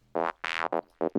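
A psychedelic glitch effect made in Logic plays as a string of five short, choppy tonal bursts, stuttering on and off with abrupt cuts and a chopped, warbling middle segment.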